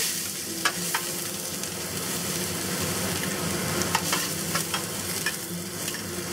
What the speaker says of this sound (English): The ginger, garlic, and the chili peppers. saute it for like 30 seconds until it's fragrant